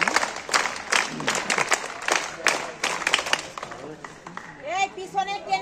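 Schoolchildren at a morning assembly clap in loud, uneven bursts that thin out, with voices speaking over the end.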